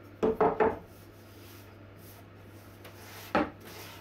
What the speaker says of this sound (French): j'affine un petit peu au ciseau à bois et au guillaume l'intérieur de l'entaille